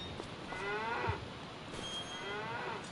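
Young cattle moo inside a barn in Farming Simulator 25, several drawn-out moos overlapping one another at moderate loudness against a quiet background.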